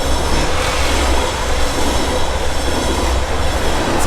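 A long train passes close by as a loud, continuous broadband rumble and roar that holds steady without a break for the whole stretch.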